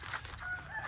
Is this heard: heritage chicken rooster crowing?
yes